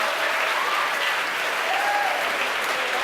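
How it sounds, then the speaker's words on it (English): A crowd at SpaceX headquarters cheers and applauds steadily during a Starlink launch, a dense, continuous wash of clapping heard from within the room. "The crowd here at headquarters cheering."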